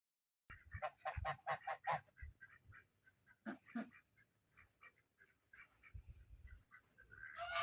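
Farm geese and other fowl in a rural compound honk and call in quick loud bursts, then continue more sparsely at moderate distance, with a rising louder honking at the end.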